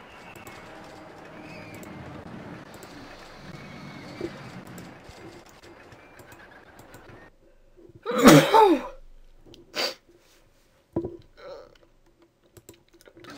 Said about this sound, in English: I had a sneeze right there